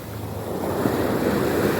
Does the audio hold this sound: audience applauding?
no